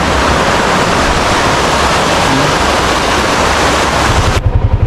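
A river current flows steadily past a town, a continuous broadband rush of water close by and loud, with a brief low rumble near the end.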